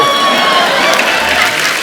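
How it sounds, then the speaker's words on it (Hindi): A studio audience at a comedy reality show breaks into loud, sustained applause, a thick steady wash of clapping with some cheering mixed in. "जोरदार तालियां इस दाल के लिए"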